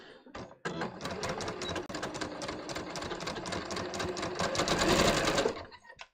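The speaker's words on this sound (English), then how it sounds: "All right, so let me just sew this." A sewing machine stitches a bias-cut top, giving a dense, fast, steady whirring and clatter for about five seconds, with a short pause near the start and a close, loud motor sound that winds down at the end.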